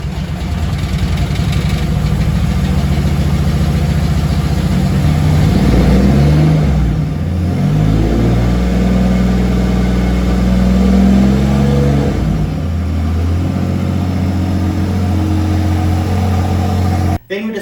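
A Mercedes M104 turbocharged six fitted with new spark plugs runs loud and steady throughout, with a lumpy idle and some revving. A voice talks over it at times.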